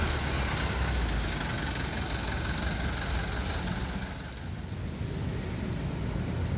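Diesel bus engine idling and pulling out of a parking lot at an improvised bus terminal, a steady low rumble with broadband wind noise over it throughout, fairly distant and even in level.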